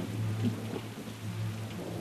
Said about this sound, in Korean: 중국 베이징시에서도 폭우와 함께 우박이 내려 피해가 났습니다.